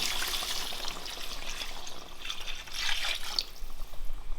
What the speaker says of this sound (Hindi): और अब मैं इसमें ऐड करने लगी हूँ जी पानी।